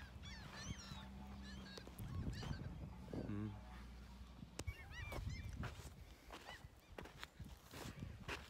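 A flock of geese honk repeatedly in scattered, overlapping calls somewhat distant behind the person, mixed with outdoor wind and rustling, with a few sharp clatters.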